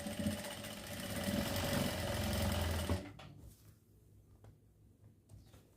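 Sewing machine stitching a neck design, with a close, steady motor whir and rapid needle rattle for about three seconds before it stops and only faint room sounds and small clicks remain.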